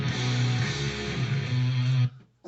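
Heavily distorted electric guitar plays a chugging riff, with thick sustained notes shifting pitch a few times before stopping abruptly, loud and close.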